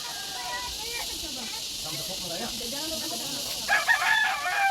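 A native Bisaya rooster crows nearby amid a steady hiss of background noise, with a louder, brighter call near the end.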